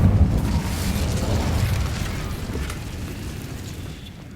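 An Incendio fire spell cast in Hogwarts Legacy erupts in a loud whooshing boom with a fiery roar that slowly fades over a few seconds.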